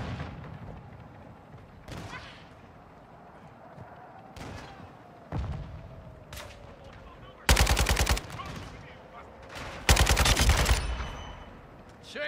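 Scattered gunshots ring out in Call of Duty Modern Warfare II Ground War, with sharp single cracks early on and two loud, dense automatic bursts later over a low battlefield rumble.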